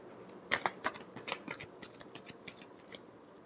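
A deck of tarot cards is shuffled close by, a quick run of crisp riffling flutters that starts loud and fades into lighter, irregular flicks.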